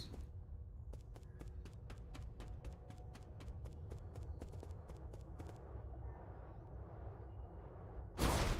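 A spear-wielding boss on horseback in Nine Sols gallops with a rapid series of sharp hoof clops over a low rumbling bed, the beats stopping midway before a sudden loud burst at the end.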